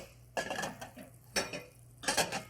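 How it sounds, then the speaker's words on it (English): Three separate bursts of a utensil scraping and clinking around a bowl while garlic butter sauce ingredients are mixed, close and crisp with short quiet gaps between strokes. "Let me mix up everything here really good"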